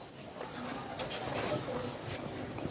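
Pigeons coo softly in the background at a pigeon-keeping loft, faint low calls that are mostly masked by people talking nearby.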